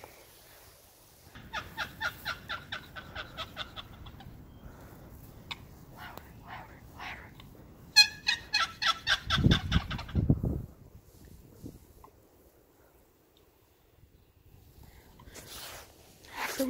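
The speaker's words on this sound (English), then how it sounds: "There's turkeys here." Wild turkeys gobble out in the open woods in spring, several quick rattling bursts that sound far off and faint, with footsteps and rustling in between.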